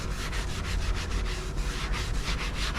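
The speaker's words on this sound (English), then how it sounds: "And now we're just going to go over with that green pad, and it just leaves a nice smooth finish ready for primer" Green scuff pad rubbing steadily over cured body filler on a plastic panel, a continuous close-up scratchy abrasion with regular back-and-forth strokes and no talk.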